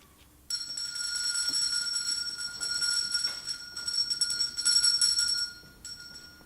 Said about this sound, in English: Get in before the last bell.